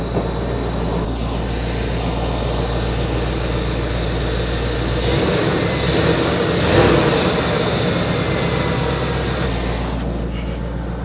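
A car engine idles steadily with a deep low hum, loud and continuous, swelling slightly midway before settling back to an even idle.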